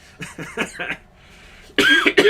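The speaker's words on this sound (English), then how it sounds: "Sorry, coughing." A series of coughs, several short bursts close to the mic, followed by a louder, harsher fit of coughing near the end.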